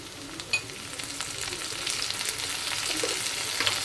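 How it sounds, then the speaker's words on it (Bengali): One spoonful of onion paste frying in a pan for a pointed gourd (patal) dish, giving a steady close sizzle and crackle that swells slightly, with a faint stir or tap early on and no talking. "1 চামচ পেঁয়াজ বাটা দিয়ে দিলাম।"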